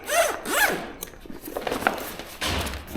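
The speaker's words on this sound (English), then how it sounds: "It's got a pretty decent looking zipper on it." Quick pulls of a zipper on a cargo bag for a hitch-mounted cargo carrier rasp back and forth in short strokes, fairly close, followed by soft handling and rustling of the fabric bag.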